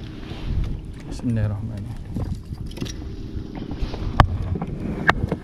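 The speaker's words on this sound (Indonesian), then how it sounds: "Angin pun boleh tahan." Strong wind gusts across open water during fishing from an inflatable boat, a steady rumbling buffet with sharp knocks, while someone speaks over it.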